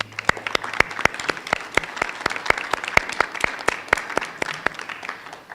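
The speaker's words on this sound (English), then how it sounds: "Let's give them a round of applause," Steady applause from an audience at a graduation ceremony, a rhythmic run of sharp, close claps sustained throughout, with no talk over it.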